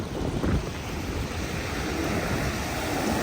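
Big waves surge and crash on Legian beach, a continuous loud roar of surf with wind rushing across the microphone and no voices.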